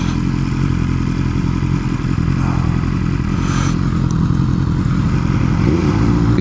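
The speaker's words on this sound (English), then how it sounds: "This bike sounds so goddamn good." A motorcycle engine runs steadily and loudly up close throughout, a continuous low rumble with clattering mechanical noise and no gaps.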